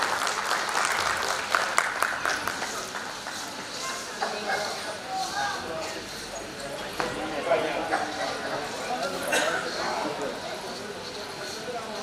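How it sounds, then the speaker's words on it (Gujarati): Applause for the daughters at a family sacred-thread ceremony, a steady wash of many hands clapping at moderate distance with uneven bursts and chatter mixed in throughout. "આ મારી બધી દીકરીઓ માટે એકવાર જોરદાર તાળી થઈ જાય"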